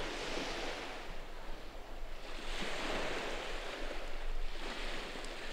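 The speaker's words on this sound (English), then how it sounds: "Look at the waves." Ocean waves surge and wash in repeated swells, each rising into a broad roar and then receding. The sound is steady and fairly close, with some wind and no voices.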